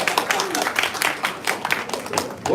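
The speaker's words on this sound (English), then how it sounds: "Can you give him a round of applause for his fantastic hair?" An audience at a Cosmocon event at Token 2049 in Singapore claps in a round of applause, a fairly steady patter of many hands from a medium-sized crowd.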